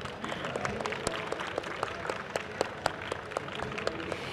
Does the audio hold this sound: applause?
yes